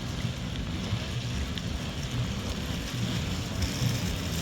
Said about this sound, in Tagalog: ang pangit ng weather na ulan